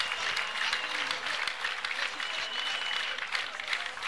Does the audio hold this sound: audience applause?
yes